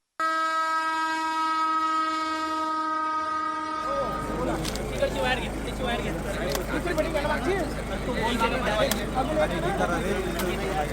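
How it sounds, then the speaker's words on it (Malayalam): A train in Jalgaon, Maharashtra sounds a long, loud steady horn, then thunders past at close range with a heavy continuous roar and clattering wheels that fills the rest of the stretch. "നിമിഷനേരം കൊണ്ട് പാഞ്ഞെത്തിയ മറ്റൊരു ട്രെയിൻ ഇവരെ ഇടിച്ചു തെറിപ്പിക്കുന്നു"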